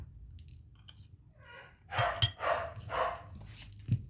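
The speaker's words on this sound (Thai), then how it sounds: "เขาเห่าอยู่นั่นแหละค่ะ" A pet dog barks a few times in a row at moderate distance, sharp yips and bow-wows clustered near the middle, with faint background noise and no talk.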